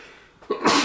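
A single sharp sneeze from a man during a tabletop role-playing game session, a brief breathy intake followed by a loud burst, close and clear against a quiet room.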